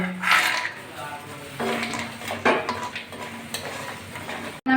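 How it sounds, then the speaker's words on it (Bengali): Lentil dumplings (bori) frying in hot oil for a Bengali katla fish curry, a steady crackling sizzle with stirring and occasional utensil clinks, close and moderately loud, with brief voice in the background. "এবার ডালের বড়িগুলো ভেজে নেব"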